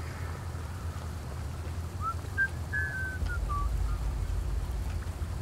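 Character whistling in the video game Sparky Marky, a short faint melodic run of notes midway through, over a steady low rumbling ambience.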